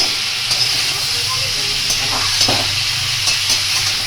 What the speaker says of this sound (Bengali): আমটাকে পটে কষানো হচ্ছে এটাকে সুন্দর করে কষাতে হবে